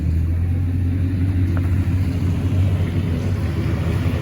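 A car rolls through a concours car show, its engine giving a steady, deep, loud rumble with a low drone throughout, heard without talk.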